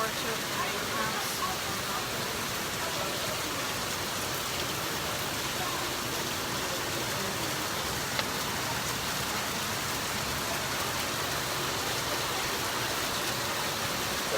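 Steady rain falls at the Family Restoration Center in Ghana, a dense, even hiss of drops that holds at the same level throughout with no breaks.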